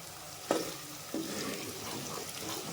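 Tempering sizzles steadily in hot oil for a tamarind jaggery rasam, a continuous close frying hiss with two brief sharper crackles as ingredients hit the pan.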